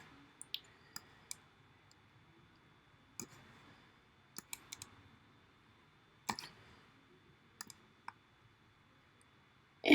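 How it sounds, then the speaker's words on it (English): Computer mouse clicking while selecting artboards during book cover design work, a sparse run of sharp, fairly faint single and double clicks spaced irregularly over a quiet room background, no talking. "you can activate them by clicking on them"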